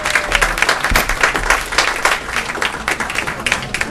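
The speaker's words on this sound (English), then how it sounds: "let's give them a round of applause." Audience applauding at a North Miami city award ceremony, a dense, steady wash of clapping from a large crowd that holds throughout without pause.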